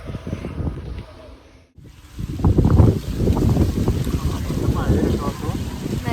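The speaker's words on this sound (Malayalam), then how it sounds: "നല്ല കാറ്റും കൊണ്ടിരിക്കുക ഞങ്ങൾ" Wind buffets the microphone during a boat ride on backwaters in Kerala. The rumble is steady and fairly loud, drops out briefly, then returns strongly, with speech mixed in.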